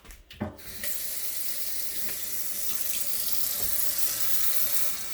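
Plain water gushes steadily from a tap into a container, a continuous hissing splash after a couple of brief knocks at the start, close and fairly loud.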